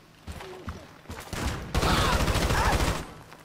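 Rapid bursts of gunfire from a hostage rescue raid on a house in the video game GTA V, starting as scattered shots and swelling into a dense, loud volley before cutting off.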